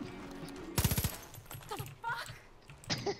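Rapid burst of gunfire in Far Cry 5, a quick run of sharp shots lasting about a quarter second, then scattered game noises and a brief voice with lighter effects afterward.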